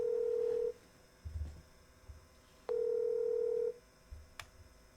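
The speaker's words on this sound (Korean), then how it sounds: "전화 연결 이제 해보도록 하겠습니다" A landline call rings through with no ringback melody: two long steady tones separated by a pause, each followed by faint clicks on the line, loud and close with no talk.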